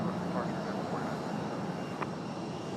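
A jet airliner arriving at Raleigh Durham airport gives a steady, broad engine roar at moderate distance, filling the whole stretch without a break.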